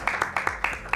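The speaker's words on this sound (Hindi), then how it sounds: "ताली बजाओ यार।" Audience at a Bollywood film launch event claps in a quick, fairly even rhythm, with about six sharp claps in a second alongside a voice.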